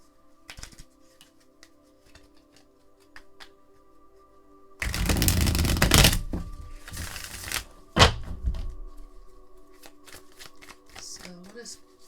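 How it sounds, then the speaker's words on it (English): A deck of tarot cards is shuffled by hand in a loud riffling burst lasting a few seconds, followed by softer card slaps and handling noises, and then faint sounds of the cards being set out in a quiet room. "I'm going to live shuffle for you."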